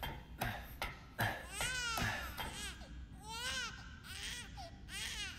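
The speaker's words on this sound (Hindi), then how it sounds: "बच्चे की रोने की आवाज़" A baby cries in Resident Evil Village, at House Beneviento, in a string of wailing, wavering sobs after a few sharp knocks. The cries sound eerie and somewhat distant, with no talking.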